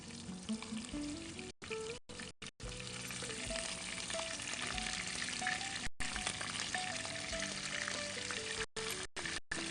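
Mutton chops fry with a steady, loud sizzle in a pan while a spoon stirs them, with short scraping stirs and brief gaps breaking the continuous frying noise.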